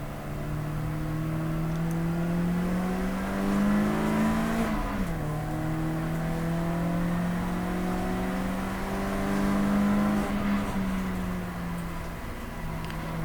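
A 116 Trophy race car lapping Snetterton circuit, engine droning from inside the car with rising and falling revs as it accelerates, sharp drops at gear changes, a continuous whirring engine note with no voices.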